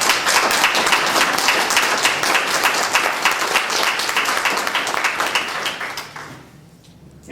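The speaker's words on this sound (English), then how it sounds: "So please join me in applauding Kay." Audience applauding at a 2012 community event about nuclear waste burial in the Great Lakes Basin, a dense, steady clapping that carries through most of the clip before tapering off near the end.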